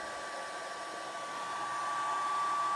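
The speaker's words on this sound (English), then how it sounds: "you can hear that fan is really trying to keep everything cool" A small cooling fan inside an old tea machine whirs steadily with a constant airy hum and a faint tonal whine, close by and unbroken.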